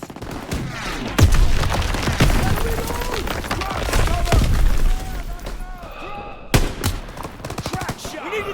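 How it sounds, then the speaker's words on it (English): Bursts of Call of Duty WWII gunfire crack repeatedly in rapid volleys, mixed with battlefield rumble and shouted voices, with a sharp loud burst near the end. "Gunfire! We must be near our guys."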